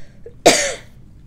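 A single sharp, close cough from someone with a lingering cough during a respiratory illness, one loud burst that trails off quickly over a quiet background.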